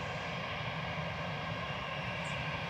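An EasyJet jet airliner departing Manchester Airport produces a steady, broadband engine roar at moderate distance, sustained evenly without talk.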